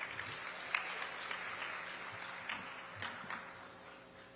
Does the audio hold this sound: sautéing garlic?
no